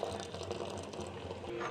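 Tea-leaf water is poured into a pot of restaurant-style chickpea curry (chhole), a steady, close, splashing pour lasting the whole moment.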